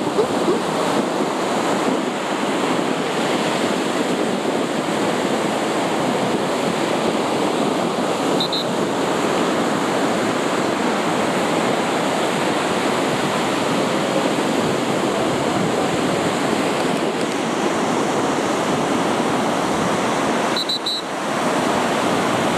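Stormy ocean off Cuba, with heavy surf rolling in a continuous broad roar and wind buffeting the microphone, no pauses across the whole stretch.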